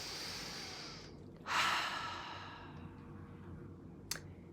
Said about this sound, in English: Take a breath in.